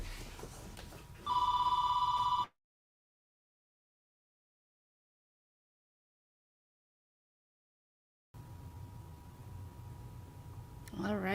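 An office Xerox copier rings like a telephone, giving a loud, steady electronic ring of about a second before the sound cuts out. Background room noise surrounds it, and a voice is heard later.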